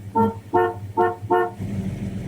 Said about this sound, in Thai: แตรอยู่ที่ขอบพวงมาลัยฮะ กดปุ่มนี้นะฮะ